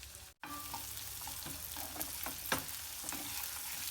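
Finely chopped onions and green chillies hitting hot oil with mustard seeds, urad dal and a red chilli for a cauliflower potato kurma, giving a steady close sizzle with scattered crackles and stirring clicks.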